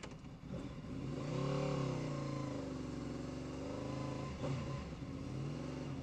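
A motorcycle pulls away on wet tires, its engine rising and falling through several revving gear changes, a moderately faint, continuous mid-pitched drone over about six seconds with no talking.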